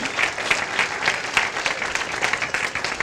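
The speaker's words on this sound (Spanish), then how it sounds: "Más fuerte el aplauso," A congregation at a Christmas church program gives a church youth group a strong round of applause, many hands clapping in a dense, continuous wash that stays loud and close throughout.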